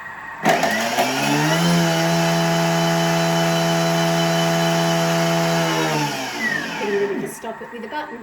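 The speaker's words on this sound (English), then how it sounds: "1 clove of garlic, and we're going to grate that." Thermomix kitchen machine grating a single garlic clove, a loud steady motor whir that spins up sharply, holds for about five seconds, then winds down, with a short clatter afterward.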